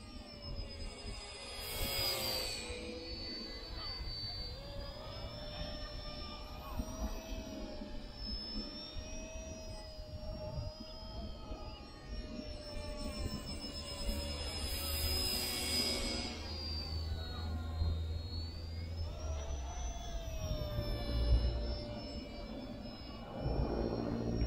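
An RC ERA C032 Huey remote-control helicopter flies steadily, its high rotor and motor whine rising and falling in pitch as it maneuvers, fairly loud and continuous with no voices over it.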